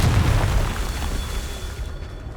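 A Confringo fire spell explodes in the Hogwarts Legacy video game, a loud close boom with a deep rumbling burst at the start that fades into a sustained noisy tail.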